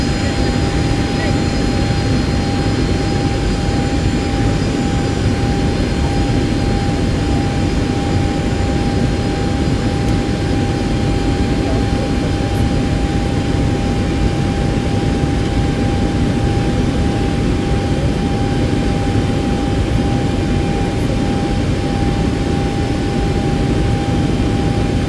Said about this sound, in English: Start exhaust stack, and you may start engine.